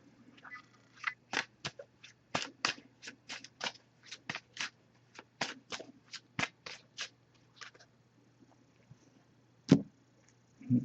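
A deck of oracle cards is shuffled by hand in a quiet room, giving a string of quick crisp riffling flicks in uneven bursts, close and fairly soft, then a pause and a couple of final taps.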